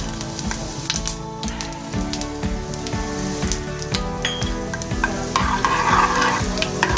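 Whole spices, including red chilli, asafoetida and coriander seeds, fry in hot oil for kadhi pakoda while a spoon stirs them, giving a rhythmic scrape and knock over a dense close sizzle.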